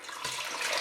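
Vegetable stock pours steadily into an Instant Pot, a continuous close splashing rush of liquid lasting under a second.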